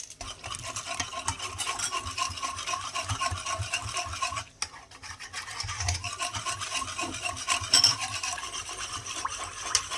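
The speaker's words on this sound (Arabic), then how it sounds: "نقلبهم كده العجينة لغاية ما يندمجوا مع بعض." Steady scraping and rubbing of a utensil working through thick basbousa dough with starch in a bowl, continuous and close, with a brief pause midway.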